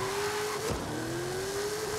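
A 2021 Dodge Durango Hellcat launches and revs hard in Forza Horizon 5, its engine note climbing loud and close with a shift partway through and faint tire squeal, no talk over it.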